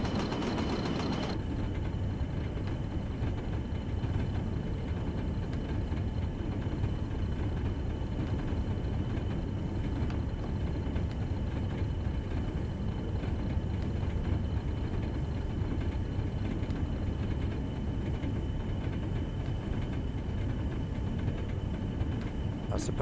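A freight locomotive in the Train Sim World 2020 game runs at speed, giving a steady, unbroken rumble and drone with no change in level from start to end.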